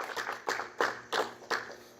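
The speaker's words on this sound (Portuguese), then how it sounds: "que a igreja aplaude o nome do Senhor" A church congregation claps at a thanksgiving service, a few distinct bursts of hand claps at a steady spaced rhythm, moderately close and fairly quiet, with no talk over them.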